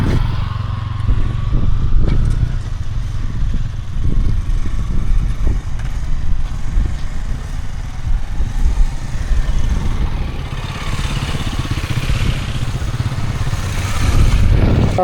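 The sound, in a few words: Yamaha MT-15 motorcycle being ridden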